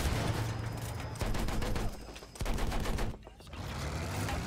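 Gunfire at a tank in Battlefield 1: loud, dense bursts of rapid shots and booming blasts, with brief gaps where the firing drops away before resuming.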